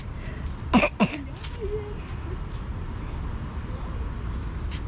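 A couple of quick coughs close by against steady background noise, followed by quiet ambience.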